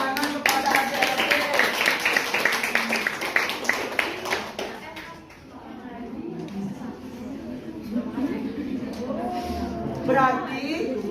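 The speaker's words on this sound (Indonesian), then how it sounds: "berikan tepuk tangan kepada adik-adik" Children clap their hands in a classroom during a primary-school maths lesson on length measurement: a dense burst of rapid claps for about four seconds, then fading into talk and classroom chatter.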